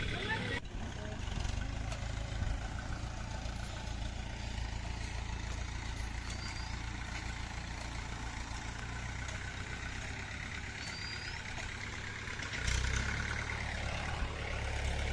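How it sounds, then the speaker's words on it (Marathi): A tractor engine runs steadily in a farm field while trimming the earthen bunds between plots. It makes a continuous low rumble with some wind noise, at moderate distance and fairly constant throughout. "ट्रॅक्टर चालू आहे"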